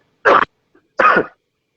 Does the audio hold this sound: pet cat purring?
no